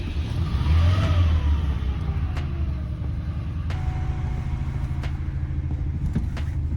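A ZAZ Zaporozhets car engine driven to warm up, a loud, close, rough mid-pitched drone with rising revs and gear changes, running continuously with no talking.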